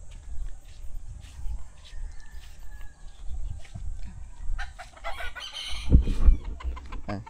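Chickens cluck and crow nearby while being fed, with soft pecking and scattered clucks building toward a busier burst of activity near the end.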